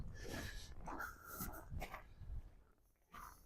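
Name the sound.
dog on a winter walk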